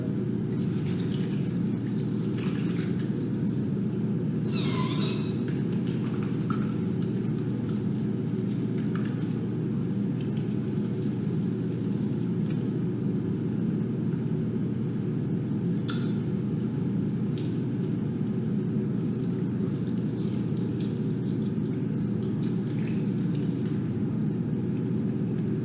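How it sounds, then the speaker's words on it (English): Hot water runs steadily from a tap for hand washing, a continuous hiss and splash held at an even level throughout, with a few faint clicks and no talking. "Hot water."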